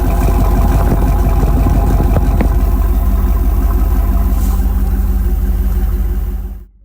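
Close-up idle of a 1992 Chevrolet Camaro Z28 25th Anniversary engine at the exhaust: a steady, loud, low rumbling burble with even pulsing throughout, cutting off abruptly at the end.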